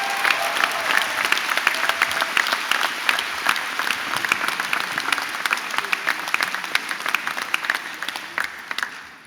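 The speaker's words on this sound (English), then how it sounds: "can we all give my mum a round of applause" A graduation audience breaks into warm applause, many hands clapping densely and steadily, with a few sharper nearby claps standing out, tapering off toward the end.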